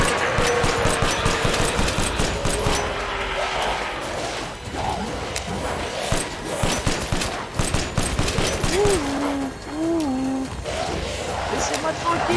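Gunfire from the Resident Evil Village finale, repeated shots and bursts in a dense, loud game mix with engine-like rumble, crashes and creature cries, while a voice speaks over it.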